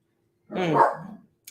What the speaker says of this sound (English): So I got a dog.